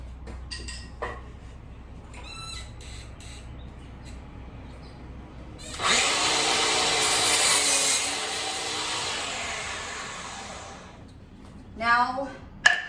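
A power tool saws through wood for a bench frame, a loud steady cutting burst of about five seconds standing out from quieter handling noise, with brief clatter as the cut ends.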